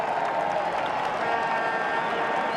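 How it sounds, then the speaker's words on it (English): A packed football stadium crowd roars loudly and steadily throughout a home match against Osasuna, a dense wall of cheering and applause with no gaps. "Great roar from the crowd as Lionel Messi goes for his first warm-up of t"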